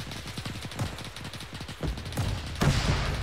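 Rapid bursts of gunfire and shelling in an ArmA 3 World War II battle, rattling volleys of shots close by with heavier thuds of exploding shells near the end.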